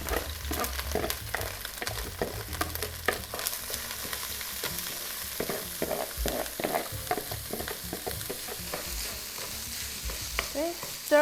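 Rice frying in a pan over medium heat while being stirred, with a continuous loud sizzle broken by frequent rhythmic scrapes and knocks of the utensil, close and with no talk.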